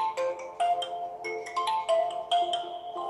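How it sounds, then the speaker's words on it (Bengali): A custom phone ringtone built around a spoken name plays alone, a bright repeating electronic melody of short chiming notes in a steady rhythm, loud and close. "নিজের নাম দিয়ে রিংটোন তৈরি হয়ে গেছে"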